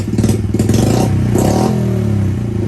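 A Yamaha TTR-50 minibike fitted with a BBR exhaust idles and revs up close, loud and steady, giving a buzzing, clattery single-cylinder drone with quick blips that rise and then settle back down.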